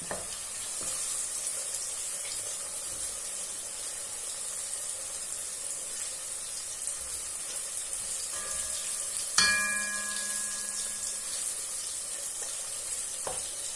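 Chicken pieces fry in hot oil in a kazan with a steady, bright sizzle, a sharp metallic clang partway through and faint ringing tones, without any voices.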